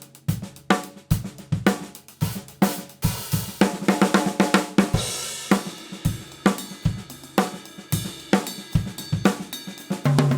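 Drum kit plays a repeating groove in 7/8 of kick, snare and cymbal hits, the snare shifted a sixteenth early, in a steady but slightly lopsided rhythm, alone and clear.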